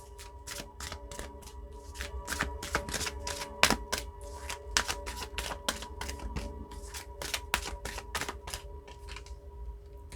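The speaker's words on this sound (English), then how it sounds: "So I'm going to pull from the Soul Coaching deck." A Soul Coaching oracle card deck is shuffled by hand, giving a long run of rapid, crisp clicking riffles at moderate loudness with no speech over them.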